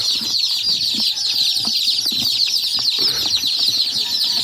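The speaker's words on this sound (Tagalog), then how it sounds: "Ito na ang aming first batch na sisiw." A first batch of over a hundred chicks on a farm fill the air with dense, continuous high-pitched cheeping, close and loud, with scattered wing flutters and no talking.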